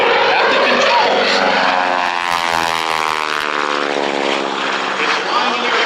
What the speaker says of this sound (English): is flying an airplane that was originally designed to be a trainer